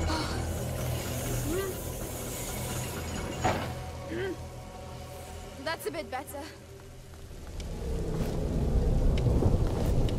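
Steady rain and rumbling thunder of a storm in the video game A Plague Tale: Innocence, a continuous wash with a few louder crashes, under spoken dialogue.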